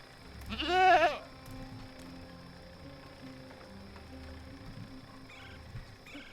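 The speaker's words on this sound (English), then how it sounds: "if we look over here, there are some goats there." Goats bleating in the video game Dreamfall Chapters: one loud, wavering bleat near the start, then a quieter distant bleat toward the end over low ambient game sound.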